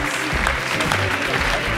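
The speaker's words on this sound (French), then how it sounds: "Applaudissements pour lui." Studio audience applause on a French late-night TV game show, a dense, steady wash of clapping from a large crowd filling the whole moment without pause.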